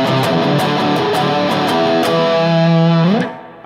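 Heavily distorted electric guitar plays the chorus of a song as sustained, loud power chords with dense harmonic grit, holding steadily before cutting off near the end.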